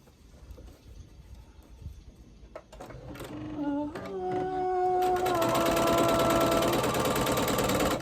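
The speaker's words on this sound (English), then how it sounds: "So I'm just gonna sew them end to end." A sewing machine stitching pre-cut fabric strips end to end for a quilt border starts up partway through, its motor whirring and rising into a steady, loud, rapid stitching drone after a few quiet handling sounds.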